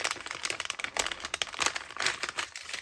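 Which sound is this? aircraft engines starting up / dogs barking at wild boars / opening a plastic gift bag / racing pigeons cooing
opening a plastic gift bag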